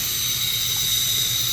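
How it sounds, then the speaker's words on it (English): Water bubbles and hisses from the cold side of a faucet that needs a new cartridge, a steady, loud rushing flow that runs throughout. "water definitely bubbling up on the cold side."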